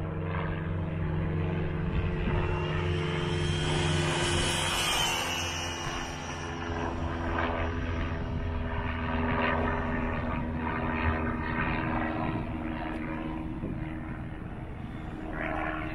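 Arrma Infraction RC car with a 15T pinion running flat out on a speed run, a high continuous electric whine that holds for the whole stretch at moderate distance, with no voices.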